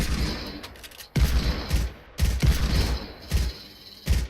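Gunfire in the Fortnite battle royale video game: rapid bursts of shots in several volleys separated by short pauses, loud and close, with no voices heard.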